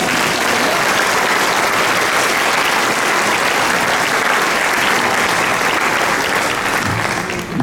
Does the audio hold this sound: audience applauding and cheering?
yes